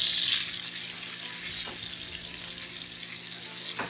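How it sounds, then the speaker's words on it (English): Steady, loud sizzle of filet mignon searing in a hot pan, a continuous close frying hiss with a faint clink of the pan and no talk. "I'm going to sear it for about another minute on the back side"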